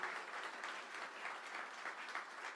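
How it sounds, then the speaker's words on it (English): A university crowd gives sustained applause to the band and spirit squads, a soft, continuous patter of many hands clapping heard from a distance with no speech. "let's give a big round of applause and a big hand to our band and our spirit squads"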